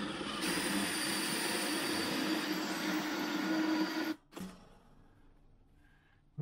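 A power drill bores a hole into a high voltage box, a loud steady whine held for about four seconds before it cuts off abruptly, then a short burst and quieter handling.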